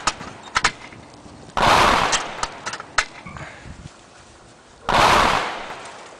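Gunfire in a World War II video game: several sharp single shots and two longer, loud bursts of noisy blasts separated by quieter gaps, with no talking.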